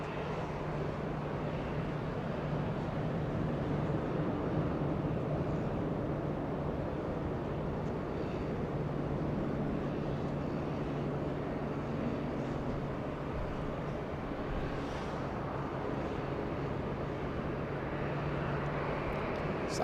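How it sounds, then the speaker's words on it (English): A Southwest Airlines Boeing 737-700, 18 years old, takes off from runway 24 left at Los Angeles International Airport, its engines a steady distant roar that holds without a break. "Southwest Airlines getting a move on, flying to San Francisco. A 737-700."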